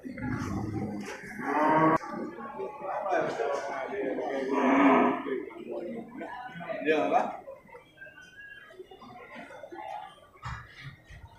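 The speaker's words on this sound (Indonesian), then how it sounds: "ini sapi Simmental Cross nih kan, sama Angus ini, merek Angus bersilangan ini dua-duanya nih kan" Simmental and Angus cross cattle low and moo at a busy livestock market in Geurugok, the calls coming in short bursts amid steady talk and crowd noise.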